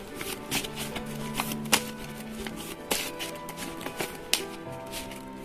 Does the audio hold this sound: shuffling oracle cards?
yes